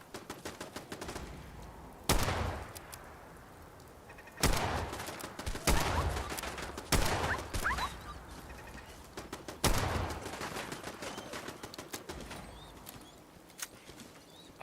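Turret gunfire from Fallout 4 in survival mode comes in several sharp bursts spread through the stretch, separated by quieter gaps filled with faint background ambience and scattered small clicks.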